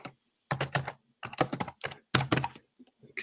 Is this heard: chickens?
no